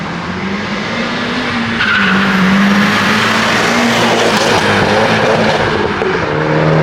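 A slammed Nissan S15 drift car carves figure eights, its tires squealing loudly and continuously over a steady, strained engine note, close and sustained throughout.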